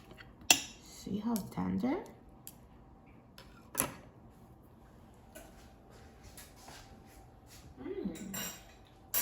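Knife and fork scrape and clink against a plate while cutting a tender Instant Pot turkey leg, a few sharp taps and short scraping strokes with a brief spoken remark between them.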